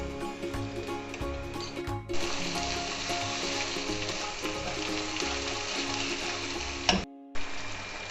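Freshly crushed ginger and garlic fry in a pot for a biryani, a steady close sizzle with light stirring ticks that continues throughout, broken by a short gap near the end.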